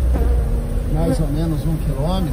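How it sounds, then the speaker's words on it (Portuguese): A dense swarm of bees pouring out of a car packed full of them gives a loud, continuous buzzing drone, close by, with someone talking over it. "Carro lotado de abelha."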